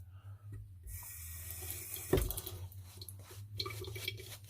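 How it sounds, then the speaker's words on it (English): A tap runs briefly into a sink to wet a shaving bowl, the water hissing close with a small splash burst in the middle, over a low steady hum, and nobody speaking. "I need a little bit of water here, I think."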